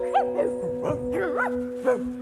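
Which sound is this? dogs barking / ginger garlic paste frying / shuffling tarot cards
dogs barking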